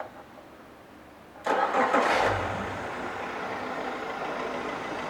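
A 2015 Yamaha F115 four-stroke outboard boat motor fires up with a sharp cranking burst, then settles into a steady, fairly quiet idle close by.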